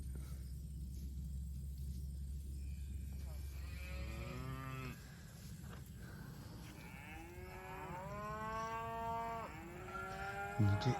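Cattle moo repeatedly while a herd is moved later in the day to avoid extreme heat: several loud, drawn-out calls from nearby, over a steady low farm rumble.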